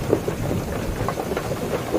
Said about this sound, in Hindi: अरे बाप रे, बहुत तेज बारिश है।